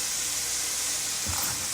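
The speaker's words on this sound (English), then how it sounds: "And then you'll just let those sizzle for a little bit." A steady hissing sizzle of vegetables frying in a hot pan for turkey chili, continuous and close, with a soft bump of movement near the end.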